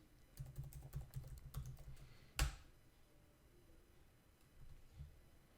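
A computer keyboard clacks through a quick burst of keystrokes and then one sharper tap, followed by sparse faint clicks, all quiet and close.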